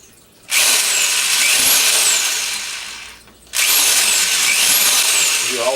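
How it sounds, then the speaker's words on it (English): A power drill bores holes in the side of a plastic worm compost bin in two loud bursts, each a rising whine that runs for a few seconds, separated by a short pause. "And now we'll poke holes in the sides, and so this needs to be about 1 inch or 2 inches apart."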